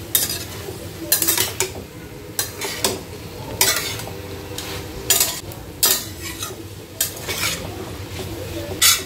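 Chicken, prawn and corn being stirred and sautéed in a pan with chilli flakes and herbs, giving repeated sharp scrapes and clinks of a utensil against the pan over a soft, steady sizzle.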